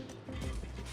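Ratchet wrench clicking during brake caliper work on an Audi RS6 rebuild, a short dense burst of close mechanical clicks with no talk.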